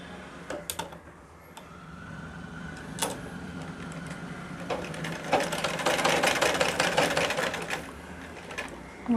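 A sewing machine stitches a cross patti strip onto fabric, its needle running in a steady mechanical whir with scattered clicks and a few short pauses, close and moderately quiet, with no talking.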